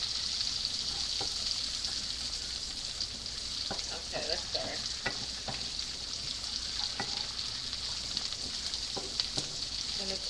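Onion frying in a pan for peppered shrimp, a steady bright sizzle throughout with scattered crackles and pops, moderately close.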